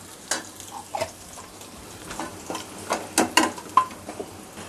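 A bay leaf, a cinnamon stick, a clove and two cardamom pods fry in hot oil, crackling lightly as a spoon knocks and scrapes the pan in an uneven run of close, clattering taps.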